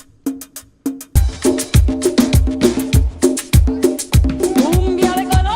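A basic cumbia drum groove plays alone, loud and close: a steady loop of deep bass drum thumps and sharp hand-drum and shaker hits in a lively, repeating syncopated rhythm, with a few lone strikes opening before the full pattern kicks in.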